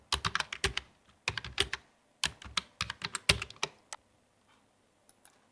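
Close, crisp keystrokes on a computer keyboard while typing a word of text in CorelDraw, coming in quick clattering bursts with short pauses, then trailing off into a few isolated taps, with no talking.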